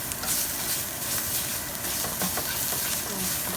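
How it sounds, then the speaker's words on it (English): Onions, bell peppers and celery cooking in a roux, a close, continuous sizzle with stirring and scraping sounds throughout. "So we're gonna let this cook about 5 minutes in the roux."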